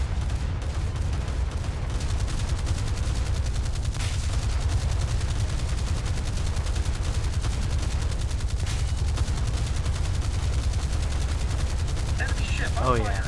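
Naval gunfire in a pirate-themed video game, with steady heavy firing and booming shots rolling on continuously under a dense, loud game soundscape for the whole stretch.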